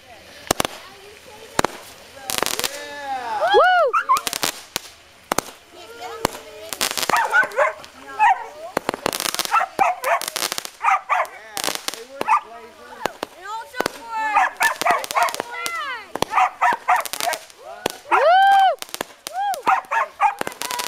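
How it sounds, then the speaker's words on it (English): A Phantom Fireworks Happy Planet firework fires a rapid run of sharp cracks and bangs with whistling, fizzing effects over about twenty seconds, close and loud, while a dog barks and whimpers and voices are heard. "this is Happy Planet Phantom Fireworks. Here she goes."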